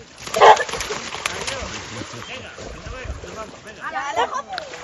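A dog gives a few short barks near the start, followed by outdoor ambience on the Camino Francés between Cirauqui and Luquin, with people talking faintly and a splash of water.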